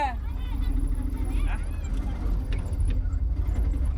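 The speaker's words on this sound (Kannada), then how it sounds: "ಇದು 3 ವೀಲರ್ ಫ್ರೆಂಡ್ಸ್" A three-wheeler vehicle runs along a rough farm track in an areca nut plantation, a continuous close engine rumble with rattles and clanks while people talk over it.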